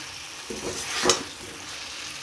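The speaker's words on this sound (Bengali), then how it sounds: "আমি কষা করছি ডিমের কষা" Eggs and potatoes sautéing in oil give a steady close sizzle, with a brief louder scrape of stirring midway and no voices.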